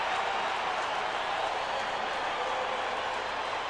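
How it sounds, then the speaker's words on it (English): Stadium crowd at a Raiders vs Broncos football game in Denver, a steady broad roar of cheering that holds evenly loud throughout with no break. "with the crowd in full throat"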